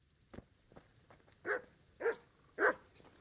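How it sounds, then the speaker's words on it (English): A dog barks three times in a video game set in medieval Bohemia, short evenly spaced woofs at moderate distance, clear against a quiet background with no talking. "Hello, dog. I do not want you following me around."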